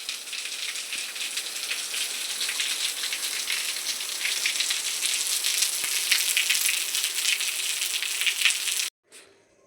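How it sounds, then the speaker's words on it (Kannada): Heavy rain pours steadily on a farm in the evening, a dense, close hiss that holds almost unbroken for about nine seconds before cutting off abruptly. "ನೋಡ್ರಿ ಜಗ್ಗಿ ಹೊಂಟದ ಮಳೆ"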